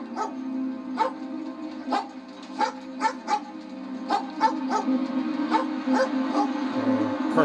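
A dog in the Overwatch 2 animated short Calling, featuring Sojourn, gives a run of sharp, evenly spaced yips and barks, then drops into whimpering, with a low steady hum underneath.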